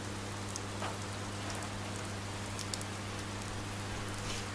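Steady, dense rainstorm rain in the Oxenfree video game, a constant wash of falling rain and drops hitting surfaces with a low hum beneath and no talking.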